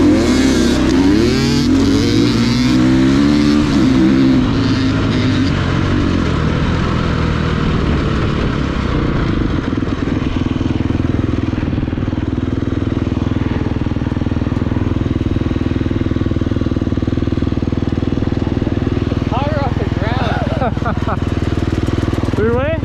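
A dirt bike launches hard from a standing drag-race start, its engine rising loud and close with strong harmonics before easing off, while several people talk loudly over and between the engine noise.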